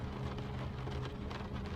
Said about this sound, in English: The rain is lighter now, less insistent.